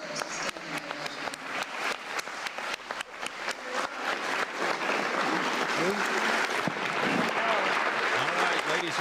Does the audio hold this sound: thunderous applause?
yes